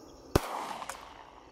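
One sharp report from an Interarms Firestar semi-automatic pistol fired outdoors, a single loud crack followed by a brief fading echo, with no talk.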